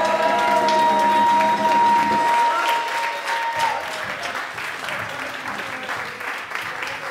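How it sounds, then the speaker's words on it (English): Enthusiastic applause from a large crowd, steady dense clapping with a held musical tone fading out early, continuing throughout. "Can we have a big round of applause again for the wonderful ensemble?"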